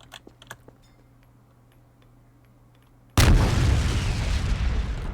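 A thrown grenade from the Jmod add-on for Garry's Mod detonates with a sudden, loud blast after a few seconds of faint ticking quiet, followed by a long, roaring rumble that fills the rest of the moment.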